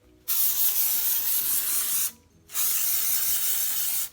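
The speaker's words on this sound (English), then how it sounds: "And I'm gonna spray the bottom." Hair spray hisses onto long curled hair in two bursts, a long spray of nearly two seconds, a brief pause, then a second spray of similar length, close and loud.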